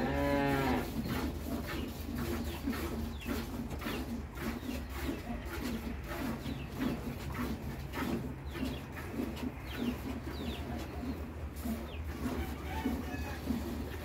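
Dairy cows, some of them heavily pregnant, moo on a farm: one loud, drawn-out moo opens, followed by a series of fainter lowing calls and faint bird chirps in the background.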